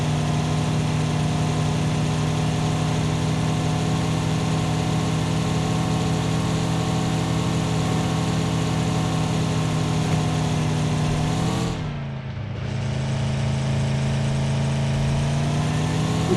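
A vehicle engine in the PUBG video game drones loudly and steadily with a constant rumbling hum, dropping out briefly around two-thirds of the way through before resuming at a slightly lower pitch.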